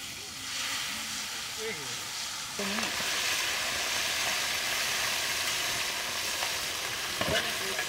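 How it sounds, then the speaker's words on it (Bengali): A voice speaks briefly, then hot oil bursts into a loud, steady sizzle as a small bata carp goes into the pan, hissing continuously up close. "তেল সেজে গেছে, আর মাছটা দিয়ে দিলাম।"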